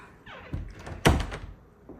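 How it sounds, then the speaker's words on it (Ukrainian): A door in a house's kitchen area, next to the pantry, swings open onto the back yard, giving a soft knock followed by a louder, solid thunk, then quiet room tone. "Відкриваються двері на ваш задній дворик."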